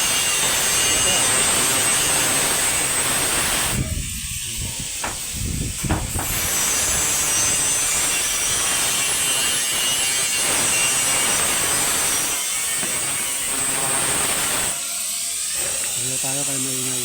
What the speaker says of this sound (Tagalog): tayo kay maingay